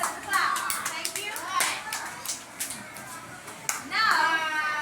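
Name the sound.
children clapping in class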